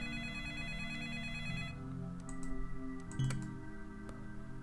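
A video game telephone rings in short repeated electronic trills over a quiet background hum, with faint ticking clicks scattered through the later part.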